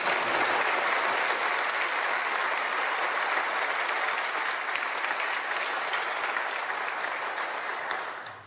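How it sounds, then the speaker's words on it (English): Sustained audience applause for Kate Rose at a golf award ceremony, a dense, steady wash of clapping from a large crowd that holds for about eight seconds before starting to taper at the end. "Give her a clap, because I need a sip."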